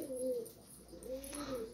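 Pigeons coo softly in two drawn-out, rolling calls, fairly faint and close against a quiet background.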